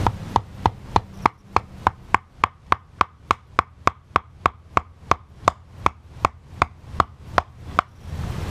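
Sharpened titanium straw repeatedly stabbed into a coconut, giving a steady series of about twenty-five sharp, evenly spaced woody knocks, close and loud with no talking.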